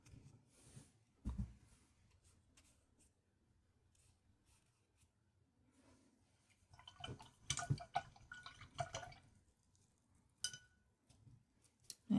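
Paintbrush rinsed in a water jar during acrylic painting in a journal, with faint scattered taps, swishes and clinks of the brush against the container amid near silence, alone and close.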